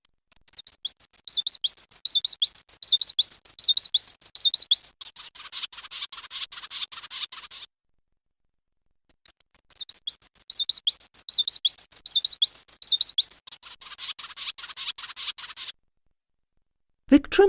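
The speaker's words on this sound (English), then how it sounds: "Today's bird call is the Victorin's Warbler." Victorin's warbler singing: two long bouts of rapid, warbling, whistled phrases with buzzy trilled passages, clear and close, separated by a short pause, with no talking.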